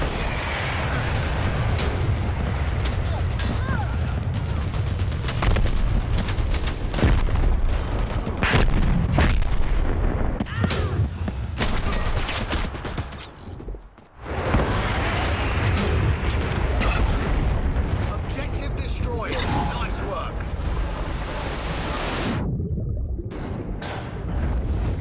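Gunfire and explosions from the online shooter Dirty Bomb form a dense, loud, continuous wall of booms and shots, with a brief dip midway before the barrage resumes.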